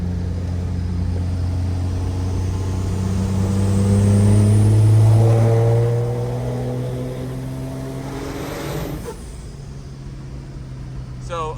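A tow truck with a diesel engine and overdriven injectors revs up to a loud, sustained rumbling roar, then drops back to a lower idle. It is heard from close by with some cabin noise.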